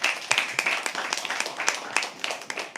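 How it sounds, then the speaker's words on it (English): Applause at a poetry open mic night, a small audience clapping with distinct individual hand claps and uneven rhythm, moderately close. "Can we clap for that?"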